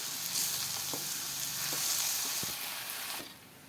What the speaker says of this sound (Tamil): சேர்த்துட்டு மெதுவாக இதை வந்து நல்லா மிக்ஸ் பண்ணி விட்டுடலாம்